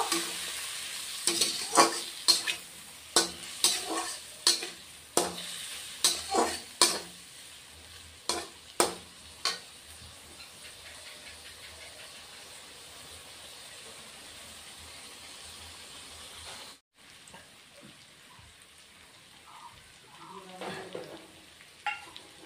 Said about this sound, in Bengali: লাল লঙ্কার গুঁড়ো দিয়ে দিলাম। দিয়ে একটু কষিয়ে নিব।